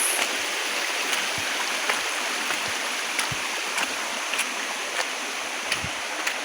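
Kagbuho Falls and its stream pour in a steady, broadband rush of water, constant and fairly loud, with faint scattered ticks and knocks over it.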